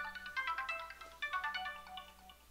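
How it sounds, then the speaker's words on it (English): An incoming call's phone ringtone plays alone, a bright repeating melodic pattern of quick tones in two bursts with a short pause between them, fairly close and clear. "Sorry, I had a phone call."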